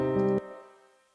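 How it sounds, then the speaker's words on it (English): A short chord is cut off and leaves a reverb tail whose high-pass filter cutoff rises as the tail decays, so it thins out and fades over about a second. "as the tail decreases, that filter cutoff frequency rises"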